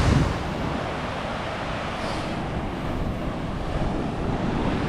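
Rough, ferocious sea surf off the coast of Vietnam roars as a continuous, loud wash of breaking waves, with wind buffeting the microphone throughout and no voices.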